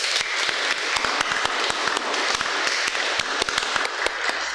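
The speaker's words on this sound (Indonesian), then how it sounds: "Kita sambut dengan tepuk tangan." Guests at a church wedding blessing break into applause after the groom lifts the bride's veil and kisses her, a dense crowd of clapping with a few sharp individual claps standing out, continuous throughout.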